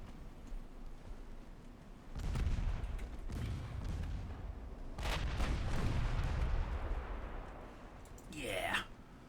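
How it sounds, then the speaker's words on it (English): Heavy battleship guns boom in the naval video game Ultimate Admiral Dreadnoughts, firing on an enemy cruiser: two loud, rumbling salvos a few seconds apart, each trailing off, followed by a short whistling sweep. "Lay fire on the enemy cruiser there."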